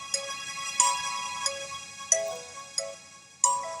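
Facebook notification sounds chiming from a computer: a series of short, bright pings arriving at irregular intervals, fairly loud over a faint steady background hum.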